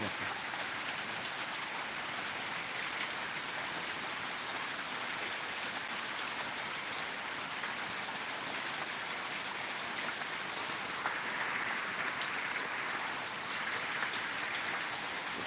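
Steady, dense downpour of heavy rain hisses evenly around a waterlogged home in Dinhata, Cooch Behar, unbroken and close for the whole stretch with no voices.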